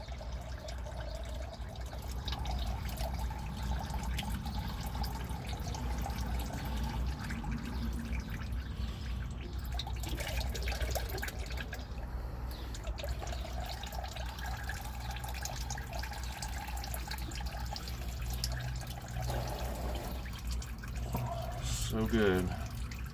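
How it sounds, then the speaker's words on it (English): Diesel fuel drains and drips from a removed fuel filter on a 2017 Dodge Ram 3500 Cummins into a drip pan, a steady trickling wash that runs continuously, close by, with a hum of background noise. "I think we're just gonna let that sit there and drain."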